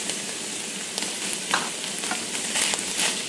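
Sun-dried tomatoes and garlic stirred into browned ground meat in a hot pan, a continuous low sizzle with soft scraping strokes and occasional utensil taps, close and fairly quiet.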